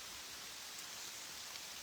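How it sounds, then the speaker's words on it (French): Dense, even hiss of heavy rain falling steadily, a constant wash of noise without pauses. "Là c'est la grosse pluie."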